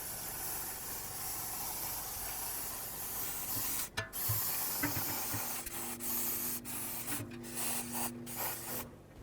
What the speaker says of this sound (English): I'm going to spray this whole area with brake clean so I can get rid of the dust